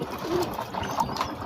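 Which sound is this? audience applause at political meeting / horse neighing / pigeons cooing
pigeons cooing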